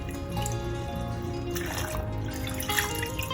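Fresh soft herbs such as basil, cilantro and parsley being rinsed in a bowl of water, with steady close trickling, dripping and sloshing throughout.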